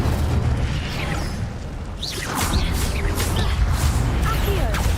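Incendio fire spell cast in the Hogwarts Legacy video game, a dense roaring burst with crackling flame noise and scattered whooshing bursts over a rumbling low background, loud and sustained throughout.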